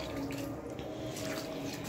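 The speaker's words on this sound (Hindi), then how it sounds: "देखिए अब ये पौधे को पानी देगी" Water is poured from a yellow bucket onto potted plants, a faint, steady splashing trickle that runs continuously for a couple of seconds without speech.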